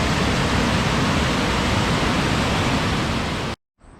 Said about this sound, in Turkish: Sonundaki bu şelale zaten ayrı, görülmeye değer bence.